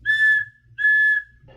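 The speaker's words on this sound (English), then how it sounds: "so she blew her silver whistle twice." A silver whistle is blown twice, two clear, sustained shrill blasts of equal length, with a brief low thud after the second.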